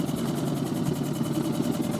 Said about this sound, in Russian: Мотор не справляется с течением.